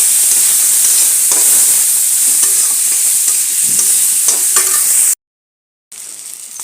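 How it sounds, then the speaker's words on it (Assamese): Peas fry in a hot pan with a loud, constant sizzle and hiss while a utensil stirs them with occasional scraping knocks; the sound cuts out briefly near the end, then the sizzling returns. "এতিয়া এই মটৰকেইটা দি দিছোঁ মটৰকেইটা অলপ মানে ভাজি লওঁ"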